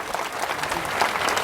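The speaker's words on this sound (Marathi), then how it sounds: "म्हणून तुम्हाला यूट्यूबच्या मालकासाठी टाळ्या वाजवायला सांगितले." A small audience at a Buddhist dharma talk claps hands briefly, a soft, close burst of scattered applause lasting about a second and a half.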